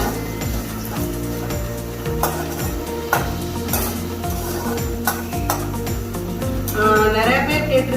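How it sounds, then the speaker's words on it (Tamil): Ginger garlic paste sautéing in a pan for chicken curry, a steady sizzle with scraping and stirring clatter throughout, alongside a repeating low tonal background. "இஞ்சி பூண்டு பேஸ்ட் வாசம் போகிற வரைக்கும் கொஞ்சம் லைட்டாக ஒரு 2 மினிட்ஸ் மட்டும் இது பண்ணிக்கோங்க"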